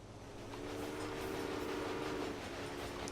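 Passenger train rolling along in a railway strategy game, a steady low rumble with a faint rhythmic clatter building slightly in the middle, fairly quiet and unbroken.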